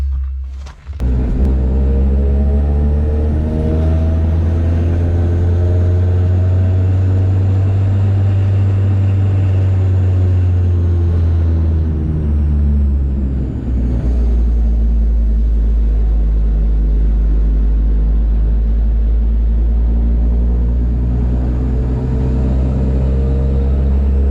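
An insanely built street-tuned off-roader drives steadily for a long stretch, its loud engine droning and rumbling with smooth harmonic tone, easing off briefly midway before pulling again, with no talking.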